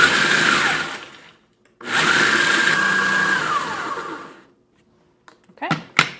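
A food processor pulses cheesecake crust ingredients into fine crumbs. Two long, loud whirring bursts are separated by a short pause, followed by a few brief, sharp pulses near the end.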